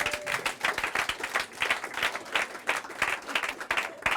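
A church congregation claps and cheers to acclaim Jesus, with steady, lively applause from many hands and scattered shouts, continuous at moderate distance.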